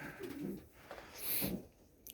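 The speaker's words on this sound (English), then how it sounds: "they're just silly white birds" White pigeons coo in low, soft murmuring calls close by, with some rustling and a brief higher chirp among them.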